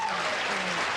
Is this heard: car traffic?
no